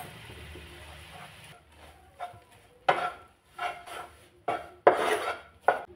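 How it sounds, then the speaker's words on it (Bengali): Ground puffed rice stirred into hot salted water in a pan for Bengali vapa pitha, heard as scattered scraping and clattering strokes of a utensil against the pan. The strokes are fairly close and moderately loud, with quiet gaps between them. "ভালো করে মিশিয়ে নেব।"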